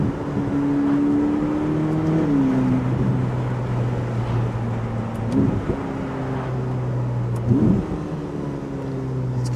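A Ferrari SF90 Spider at full throttle sends its engine note climbing and dipping through gear changes, heard from inside the car over a steady rushing roar of wind and road.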